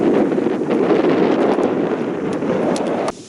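Strong wind by a lake buffets the microphone in a loud, continuous roar, easing off slightly at the very end.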